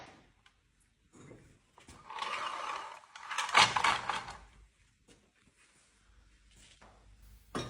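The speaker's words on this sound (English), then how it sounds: "Over 100 years old clothes dryer. How does it work?" An old mechanical clothes dryer more than a hundred years old works in two bursts of creaking, rattling gear-and-pulley motion, with near-silence before, between and after.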